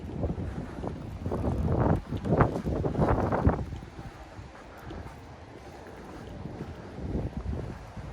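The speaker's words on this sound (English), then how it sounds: "That's how strong this wind is." Strong wind blowing outdoors at night on a city street, heard as heavy buffeting gusts against the microphone that are loudest early on, then ease into a lower rumble before a smaller gust near the end.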